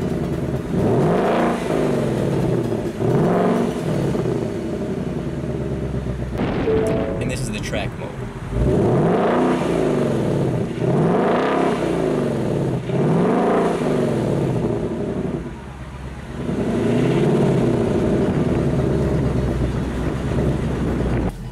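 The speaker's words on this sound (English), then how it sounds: "this car has been beefed up with a new exhaust that sounds amazing from factory" A 2018 Ford Mustang GT with an upgraded exhaust revs loudly and repeatedly, the engine note rising and falling in steady swells close to the microphone, with wind buffeting throughout.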